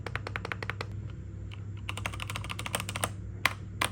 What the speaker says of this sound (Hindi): बटन मैंने आपको इसके चेक करा दिए, रेड स्विच हैं इसमें